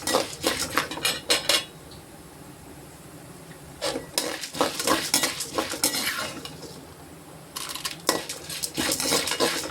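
Cashews and urad dal roasting in a pan, stirred with a metal spoon in bursts of sharp scraping clatter against the pan, separated by quieter stretches of faint sizzle, close and loud.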